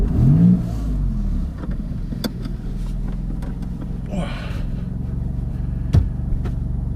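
A Maserati MC20 sports car engine idles with a low, steady rumble in a pit lane, rising in a few brief revs and sharp blips while people talk quietly nearby.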